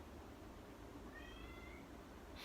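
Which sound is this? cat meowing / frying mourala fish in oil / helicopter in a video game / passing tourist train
cat meowing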